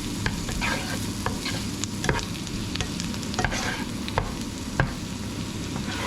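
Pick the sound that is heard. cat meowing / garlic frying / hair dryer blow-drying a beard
garlic frying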